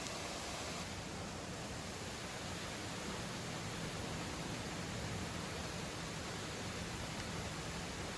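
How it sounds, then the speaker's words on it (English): Two waterfalls, Ozaki and Nedaki, one about 12 meters tall, pour on a Japanese samurai road beside a river with clear, cold water, giving a steady broadband roar that stays constant and close throughout, with no voices. "There are two waterfalls called Ozaki and Nedaki."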